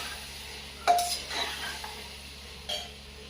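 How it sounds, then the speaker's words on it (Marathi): A metal spoon stirring and scraping chicken curry masala in a pot, with a sharp clink against the rim, a couple of softer scrapes and a faint sizzle underneath, close and fairly quiet. "परतून घ्यायचं चांगलं."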